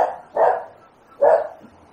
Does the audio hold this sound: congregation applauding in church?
no